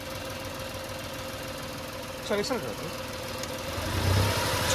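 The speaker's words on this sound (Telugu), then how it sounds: "యాక్సిలరేటర్ ఇప్పిస్తున్నా, మీరు చూసుకోవచ్చు." A Tata Tiago XZ+ car engine runs with a steady low rumble and swells briefly in a rev near the end; a person speaks one short word partway through.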